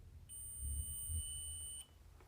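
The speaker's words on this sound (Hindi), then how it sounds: "आप सुन पा रहे होंगे बीप की साउंड" Faulty multimeter set to buzzer mode emits a single continuous high-pitched beep lasting about one and a half seconds, close and clear over quiet background.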